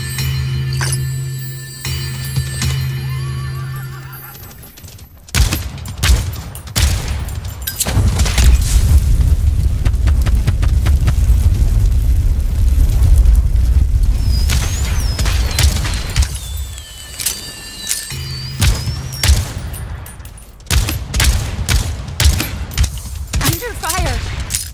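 Rapid bursts of gunfire in a Realm Royale battle crack loudly and close, dense volleys mixing with booms and metallic clinks against steady game noise, with a voice talking in places.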